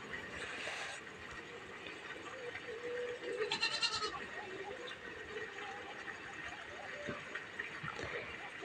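Goats bleat inside a newly built shed, one short call early on and a louder strained bleat midway, set against a low steady background with a little faint talk.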